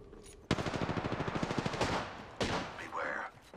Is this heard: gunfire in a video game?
yes